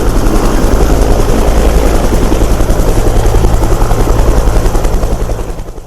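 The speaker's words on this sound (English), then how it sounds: "The Maine Forest Service is arriving with its helicopter." A Maine Forest Service helicopter thunders close and loud, its rotor chop pulsing steadily before easing off slightly at the end, with no talking.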